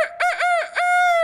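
A person imitates a rooster crowing with a single loud, clear cock-a-doodle-doo, its rising and falling notes held steady to the end, heard alone with no other sound.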